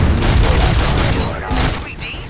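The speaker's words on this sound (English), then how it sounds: "Gunshots? What's going on?" Gunfire in the video game RoboCop: Rogue City, a loud, dense burst of rapid shots and booms that fills the first part, with a voice speaking over it.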